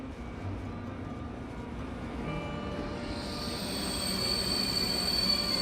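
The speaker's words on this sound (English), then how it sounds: "This is a KTX, and you can take a look." KTX high-speed train in South Korea, a steady rumbling roll of wheels on rail that swells louder toward the end with a thin high squeal rising in, no voices.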